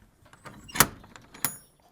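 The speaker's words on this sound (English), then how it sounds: "we'll open this door" Wooden door of a predator-proof chick shed opening, two sharp knocking clunks of the latch and frame about two-thirds of a second apart, close by with light rustling between.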